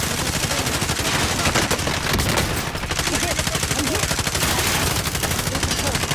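Sustained rapid automatic gunfire in a video game, a dense, steady rattle of shots running almost unbroken throughout, with voices faintly beneath.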